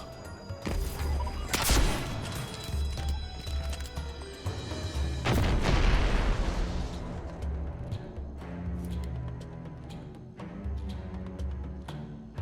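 Rocket explosions against a boss in a Destiny 2 Grandmaster Nightfall, Warden of Nothing: several heavy booming blasts rise out of rapid gunfire and crashing impacts, loud and close, with smaller shots rattling between them.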